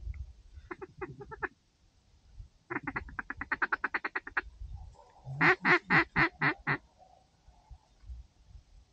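Wild ducks quack near the decoys during a Manitoba duck hunt, rapid bursts of calls in several groups, fairly close, with quiet wind-like background between them.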